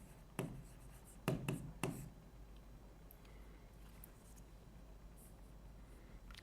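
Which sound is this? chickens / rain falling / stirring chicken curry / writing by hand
writing by hand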